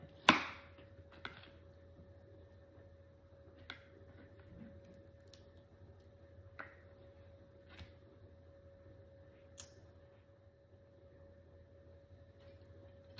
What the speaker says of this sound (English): So, chop up this onion.